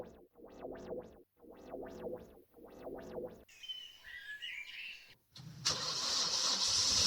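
Story sound effect of a lorry engine starting and backing up: several rhythmic cranking bursts, a brief gap, then the engine catches into a loud, steady running roar.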